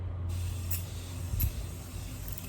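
A few short, soft hisses of a fine thermal water facial mist spray, close by, over a low background hum.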